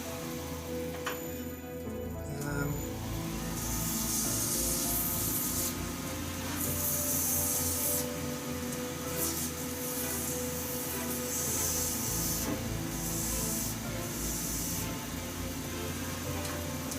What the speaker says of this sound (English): I'm just going to hit that with a bit of sandpaper just to see if we've got the shape I want it.